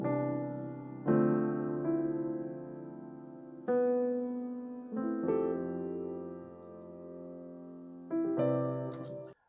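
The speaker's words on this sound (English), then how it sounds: "I added keyscape for the chords, for some keys, and then they sound like this on their own." Keyscape electric keys play sustained, warm chords in a deep tech house arrangement, with the low end cut and a wide stereo spread; six soft chord changes ring alone, quietly, without drums or voices.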